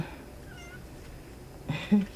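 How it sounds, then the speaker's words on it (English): A cat at a window gives a short meow near the end of a quiet room, preceded by faint background sounds and no talk. "Oh, cat's at the window."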